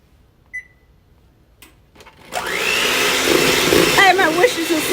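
An electric mixer creams butter in a home kitchen, starting after a few soft clicks and running as a steady loud whir to the end, with a voice speaking faintly over it.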